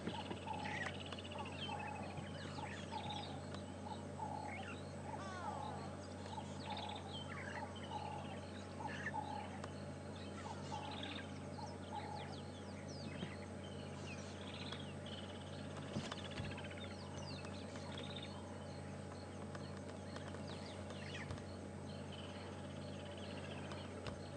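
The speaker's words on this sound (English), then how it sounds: "the standard bird calls that we hear here" Many birds call and chirp continuously over a low, steady hum on an evening safari drive at Djuma and Arathusa, with overlapping chatter and occasional louder cries, some near, others farther off.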